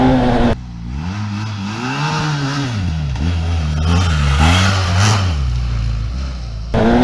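A 2017 BMW F800GS Adventure motorcycle engine climbing a sandy hill, heard close and loud as a steady, throbbing drone whose pitch rises and falls with the throttle for several seconds.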